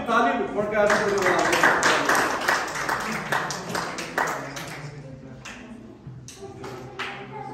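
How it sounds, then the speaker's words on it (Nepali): Congregation clapping hands together in a church during an inauguration service, a dense steady patter of many hands that thins and fades toward the end, with voices mixed in underneath. "हामी ताली फर्काएर"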